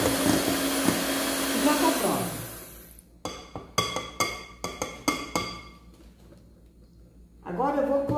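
An electric mixer blends eggless cake batter made with warm milk at low speed, its steady whirring motor running for about three seconds before stopping. Scattered clinks of utensils follow, and a voice is briefly heard at the end.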